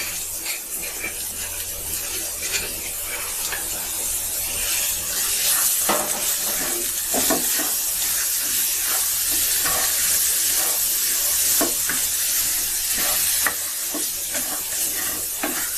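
Taro greens (kochu shak), cooked with shrimp, sizzling steadily in a hot pan while being stirred, a constant close frying hiss with scraping and tapping of the spoon throughout.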